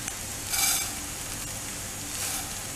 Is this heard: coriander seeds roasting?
yes